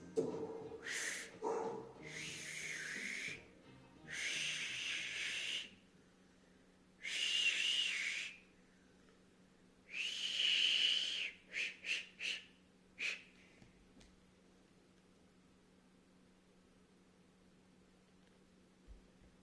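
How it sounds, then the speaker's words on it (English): A person practicing a loud no-hands whistle, producing a series of sharp, piercing bursts of varying length, some sustained for over a second and others quick short chirps, with brief gaps between them and no talking. "how to whistle loudly without your hands"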